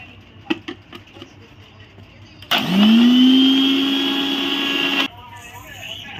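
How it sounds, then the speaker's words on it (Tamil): An electric blender grinding coffee powder, sugar and biscuits, a loud high whirring burst of about two and a half seconds that starts sharply and cuts off, with light clatter and talk before and after. "இப்போ சேர்த்து நல்லா அரைச்சிக்கலாம்."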